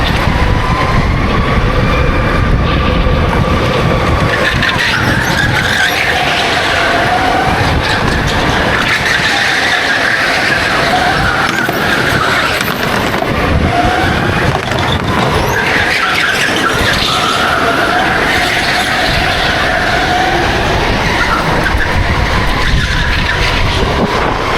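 Karts race and overtake on an indoor track at TS Liverpool Speed, their engines whining and tyres squealing. The sound is continuous and loud, with pitch rising and falling as the karts pass through corners. No one speaks.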